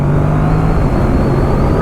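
A 2025 Yamaha MT-07 motorcycle with its transmission in manual mode drones loudly and steadily at close range, its engine pitch rising slightly toward the end, with no distinct gear change standing out.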